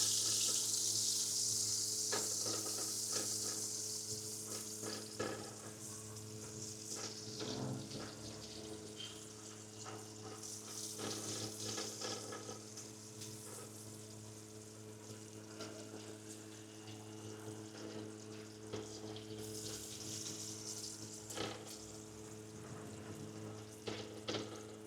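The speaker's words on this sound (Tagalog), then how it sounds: "medyo ma-toast yung bawang" Lots of garlic toasting in a pan for gambas pasta, giving a steady, fairly quiet sizzle and crackle that runs throughout with a faint hum underneath and no talk.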